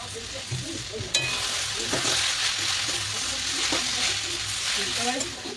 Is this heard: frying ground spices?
yes